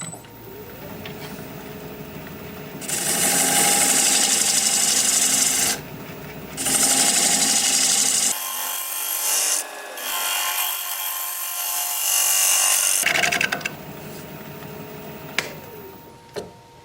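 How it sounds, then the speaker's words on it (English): A half-inch bowl gouge cuts a spinning Russian olive live-edge bowl on a wood lathe, giving loud, sustained raspy scraping in long passes, broken by short pauses where the cutting stops and the lathe runs quieter. "I'll go with a 1/2 inch bowl gouge now to kind of round this up a little"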